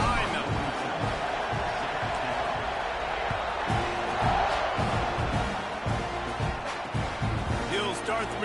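A stadium crowd in the NCAA 26 college football video game roars steadily, a dense wash of cheering that continues underneath a play-by-play commentator's voice.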